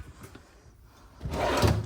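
A drawer in the kitchen of a 2026 Arctic Wolf 38LEAH fifth-wheel RV slides and closes with a short, close wooden knock and rumble after a quieter stretch.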